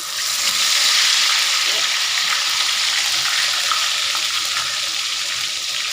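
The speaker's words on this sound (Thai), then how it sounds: "น้ำมันเริ่มห่อนแล้วเอาปลาลงเลยเนาะ" Fish fries in hot oil over medium heat, a steady, dense, close sizzle with bright crackling that stays even for the whole stretch.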